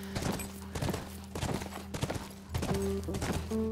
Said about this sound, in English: It feels good to ride a horse again.